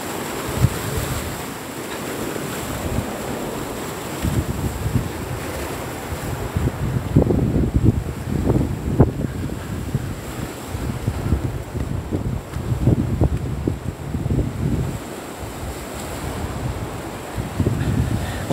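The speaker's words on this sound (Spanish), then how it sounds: "Puras playas vírgenes. Ya estamos en mar abierto aquí." Wind and surf at open sea beside undeveloped beaches in Bahía, a steady broadband rush with gusting swells and rougher bursts of wave wash, loud and close throughout with no talk.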